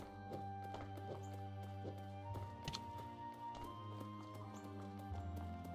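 Goats run down a mountainside in the video game Reign of Dwarf, their hooves clattering in a quick, uneven clip-clop that stays close and steady over continuous background music.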